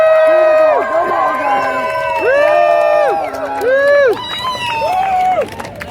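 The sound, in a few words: protest crowd cheering and making noise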